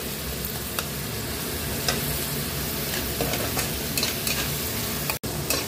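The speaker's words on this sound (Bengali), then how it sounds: "একটু নাড়াচাড়া করব, নাড়াচাড়া করে একটু যখন নরম হবে, একটু পেঁয়াজটা একটু হালকা ভাজা ভাজা হবে" Onions fry in oil in a pan with a steady, even sizzle while a spoon stirs and scrapes them now and then, close and continuous, with no voices.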